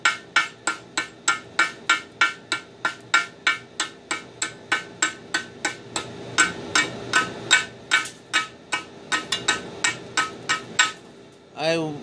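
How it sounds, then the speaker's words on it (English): Slag is chipped off a fresh weld on brake rotors with rapid, sharp metallic strikes. About thirty close, loud taps come in a steady rhythm that turns slightly irregular toward the end, with no voices. "Chip the slag off and see what we got left underneath."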